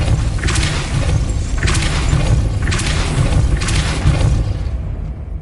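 The Depulso spell cast in Hogwarts Legacy, a series of four or five heavy, rhythmic whooshing blasts with thudding impacts, loud and close, evenly spaced about a second apart.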